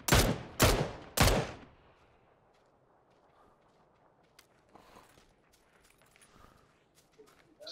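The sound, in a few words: gunshots from buildings in video game Battlegrounds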